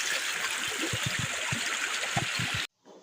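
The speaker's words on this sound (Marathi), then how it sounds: "आणि पाणी पण खूप वाहतंय." Forest stream water flowing steadily and close by on an early morning, a continuous bright rush with small gurgles, which cuts off abruptly near the end.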